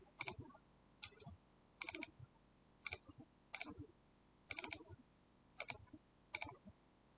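Computer mouse clicking while working in Microwind DSCH circuit design software: about ten sharp, close clicks, some paired as double clicks, spaced at irregular intervals with no voice.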